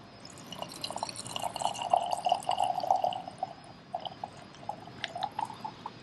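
Merlot wine poured into a glass, a steady soft trickle and splash with small drips, faint and close, with no voices.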